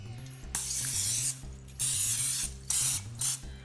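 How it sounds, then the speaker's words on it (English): Non-stick cooking spray is sprayed onto a waffle iron in several hissing bursts, a long spray followed by shorter ones with brief pauses, close and clear over a low background hum. "we're going to spray our waffle iron down with some non-stick spray"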